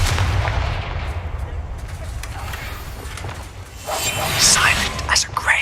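Fire spell blast cast in the Hogwarts Legacy video game, a booming, gunfire-like burst at the start, then a deep rumble and a second bright crackling burst near the end, loud and close.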